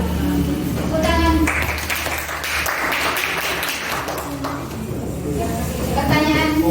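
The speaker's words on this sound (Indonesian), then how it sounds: "Tepuk tangan." Audience applause at a school student council (OSIS) candidates' debate, a broad steady patter of clapping filling the room, with tonal background sound and some voices mixed in.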